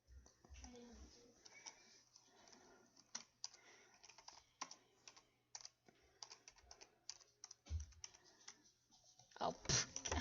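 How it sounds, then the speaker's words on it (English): Close, quiet clicking on a computer keyboard comes in irregular bursts of keystrokes while typing into a chat during an iRacing session, with occasional soft talk. "I'm trying to type something in the chat, but I've got caps lock on."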